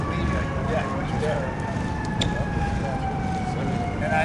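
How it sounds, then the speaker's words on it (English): A siren wails in a slow, drawn-out tone from a distance, with traffic rumble and faint voices underneath. "Let's get that siren by, and then we'll start."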